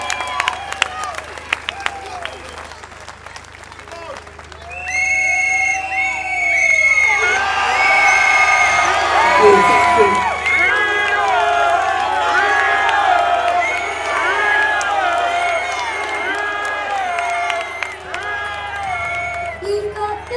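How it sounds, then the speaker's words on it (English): An outdoor anti-lockdown gathering in Birmingham breaks into loud applause, cheering and whoops after a few quieter seconds, the clapping and shouting sustained for the rest of the clip, with voices and children's shouts mixed in. "Can we guys have a massive round of applause for these guys again?"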